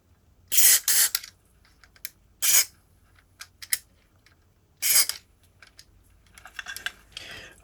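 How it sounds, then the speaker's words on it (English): Several short hissing bursts of spray hit the parts of a 1980 DOD 670 flanger pedal, with quiet gaps and light handling clicks between them. "I'm going to just spray them"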